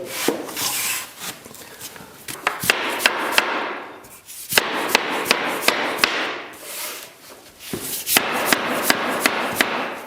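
Engineered floating parquet boards being tapped together during installation, sharp woody knocks in quick runs of several hits, separated by scraping and rubbing sounds of boards sliding into place, close and fairly loud.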